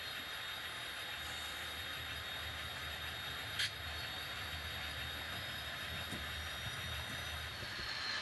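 A model Conrail GP38-2 diesel locomotive runs on a shelf layout, its sound-equipped engine giving a steady low rumble and hum throughout, with one brief sharp squeal or click near the middle.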